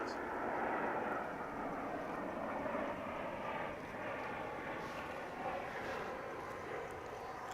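A Qantas airliner at DFW Airport gives a steady, broad engine roar that holds level throughout, heard from a distance with people talking faintly.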